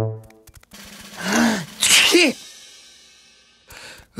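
A cartoon character lets out one loud, close sneeze with a rising wind-up breath before it, set against light animated-show background sounds.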